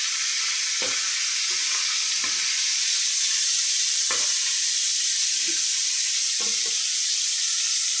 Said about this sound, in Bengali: এবারে এটা একটু হালকা ভাজা দিয়ে নেব।